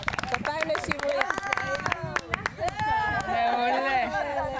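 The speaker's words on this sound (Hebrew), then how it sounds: "כפיים לשמרית" A small gathering at an academic teacher-training event gives a short burst of hand clapping in honour of Shimrit, with lively voices talking over and after the claps.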